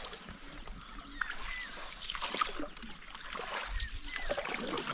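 A round coracle boat ride on a jungle river, with soft water trickles and splashes against the hull and paddle strokes, fairly faint and close, with faint voices in the background.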